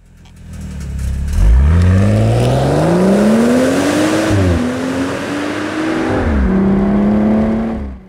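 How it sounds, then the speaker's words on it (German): A 2015 BMW M235i Cabrio with 326 hp accelerates hard, its engine rising loud and close in pitch through several gear changes, each shift briefly dropping the note before it climbs again, with no talking over it. "Klar geht der M235i ab wie Nachbars Lumpi. 326 PS in 5 Sekunden auf 100, da bleiben keine Fragen offen."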